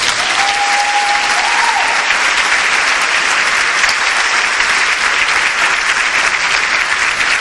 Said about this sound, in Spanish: Dele el aplauso a Jesús.